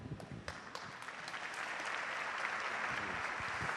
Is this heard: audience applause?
yes